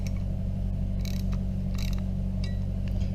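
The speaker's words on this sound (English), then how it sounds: "grab your ratchet." Ratchet tightening a turn signal bolt on a Harley bagger, a few quick clicking bursts of the pawl over a steady low hum.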